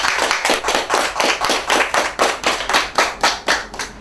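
Round of applause at a graduation: rhythmic, near clapping in a steady even beat, roughly three claps per second, loud and alone without talk.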